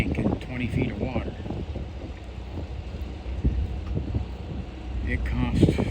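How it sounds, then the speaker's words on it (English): Wind gusts across a microphone at Conneaut harbour on Lake Erie, where a Great Lakes freighter is docking, giving a steady low buffeting rumble that swells and fades throughout, with faint voices mixed in. "It's a little windy."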